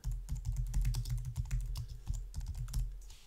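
Quick keystrokes on a computer keyboard while entering a search into a search bar, a close, quiet run of light clicks at an uneven rhythm, with nothing else heard.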